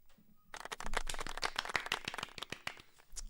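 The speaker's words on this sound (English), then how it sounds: "Let me get my round of applause sound effect" An applause sound effect played during a Yu-Gi-Oh tournament: a short burst of scattered clapping, rising quickly and fading after a few seconds.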